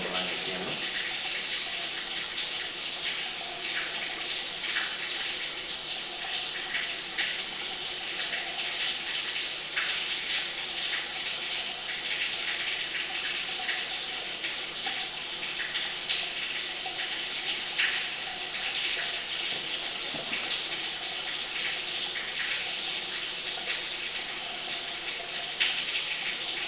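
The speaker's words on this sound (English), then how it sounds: "There's a little bit of water flowing behind the camera." Water runs steadily near a drain pipe outside a vacant house, a continuous trickling, splashing flow heard fairly close with no voices over it.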